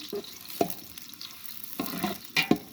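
Chopped onions frying in a pan for simple basmati polao, with a few sharp stirring scrapes and soft sizzling at a low, steady level; no talking.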